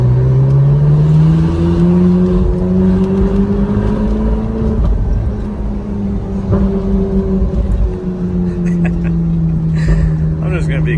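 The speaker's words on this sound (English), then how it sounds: "I'm just gonna be quiet for a little bit and let this thing roar." A Ferrari 458 Spider engine roars close and loud for the whole stretch, a sustained rising drone as it accelerates, with a brief dip and shift midway before pulling hard again.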